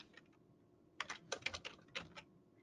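A computer keyboard is typed on in a short, quiet burst of quick clicking keystrokes, close to the microphone, after a few soft taps, with no talking over it.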